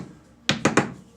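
A hammer taps the sharp edges of a cut lead weight three times in quick succession, crisp close knocks spaced about a seventh of a second apart in a quiet room.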